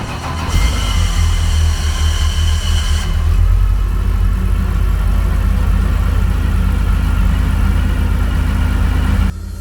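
A rebuilt Porsche 911 race engine idles steadily while warming up at a race track, giving a loud, continuous low rumble with no speech.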